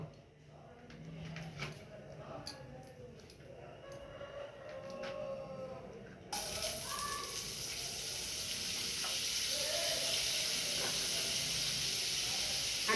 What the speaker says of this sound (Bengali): কড়াই আমি এবার বাটার দেব।